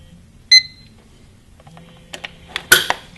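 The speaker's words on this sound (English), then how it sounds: "You'll know that they went in properly and everything is working right when you hear the beep." An atomic digital wall clock, model WS-8117U-IT-C, gives one short, sharp electronic beep right after its batteries go in. Quiet clicks and rattles of handling follow, ending in a louder snap.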